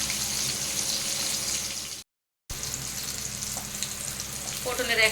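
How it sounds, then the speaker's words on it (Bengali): Pointed gourd pieces frying in oil, a dense continuous hiss and crackle heard up close, with a short silent break and a few light clatters near the end. "পটলগুলো ভেজে নিই একটা একটা করে।"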